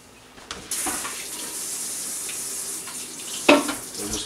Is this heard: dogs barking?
no